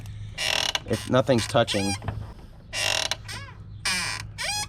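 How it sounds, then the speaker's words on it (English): Squeaky door hinges on a C4 Corvette creak in repeated drawn-out squeals as the door swings, loud and close, alternating with someone talking nearby. "I know my hinges are squeaky"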